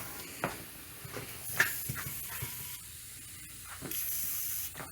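Bursts of pressurized spray from a hose nozzle rinse out the oil ports of a John Deere 400 industrial tractor, several short hissing jets repeating with gaps and one longer steady blast near the end, close and fairly loud.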